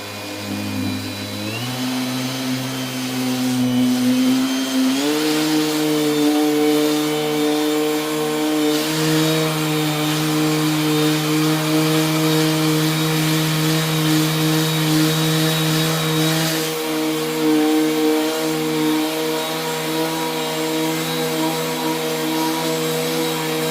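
A Parkside cordless orbital sander runs continuously on lacquered wood in a workshop, a loud steady motor whine with a droning hum that shifts pitch slightly as pressure on the surface changes.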